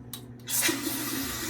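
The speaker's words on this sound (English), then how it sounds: "So now, the valve turns, and the water goes" Water rushes from a DIY-installed bidet valve into its hose as the valve turns, starting after a couple of brief clicks and settling into a steady close hiss of flow.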